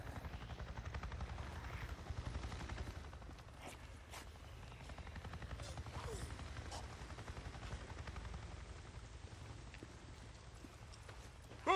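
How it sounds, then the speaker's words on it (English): A NERO helicopter in the video game Days Gone passes overhead, a steady, loud rotor rumble and whir that fills the whole stretch with little change, with no talking. "A Nero chopper. It just buzzed right over me and acted like I wasn't even there."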